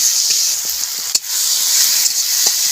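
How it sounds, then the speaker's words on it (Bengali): Chopped tomatoes sizzling loudly in a hot pan for an okra curry, a steady close hiss with a brief clatter of stirring partway through. "ভালো করে কষিয়ে নেব।"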